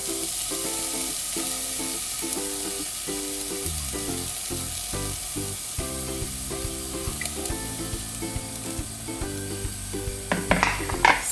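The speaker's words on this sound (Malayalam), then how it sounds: "ഒലിവ് ഓയിൽ ഒഴിച്ചിട്ട് നമുക്ക് ആദ്യം സവാള ഇടാം" Onions fry in olive oil with a steady, close hiss that runs under a prominent background melody, and a few light clatters of a utensil come near the end.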